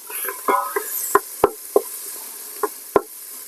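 Half a chopped onion cooking in butter in a soup pot, with a spoon stirring and scraping; several sharp knocks of utensil on metal ring out over a soft background sizzle.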